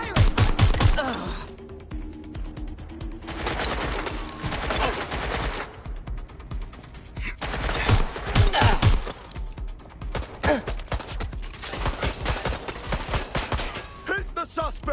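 Heavy gunfire in Watch Dogs Legion: loud bursts of automatic fire and rapid volleys recur across the whole span, with short lulls between them and game voices calling out over the shooting.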